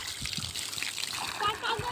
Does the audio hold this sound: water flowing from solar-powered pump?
yes